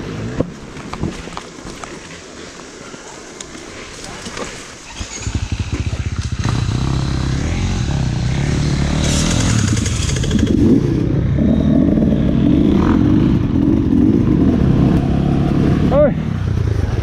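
Enduro dirt bike climbing a hill on a river bluff, its engine rising from a quieter idle to a loud, steady, close roar with rumbling revs, while a person talks over the first few seconds.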